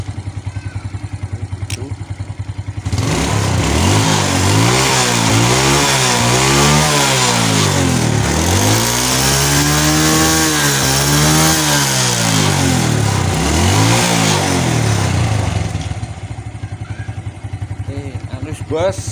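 A small motorcycle engine with a freshly tuned carburetor idles, then revs up and down in several loud, buzzy blips that rise and fall repeatedly before dropping back to a steady idle, heard up close.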